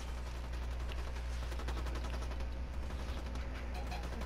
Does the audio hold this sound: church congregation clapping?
no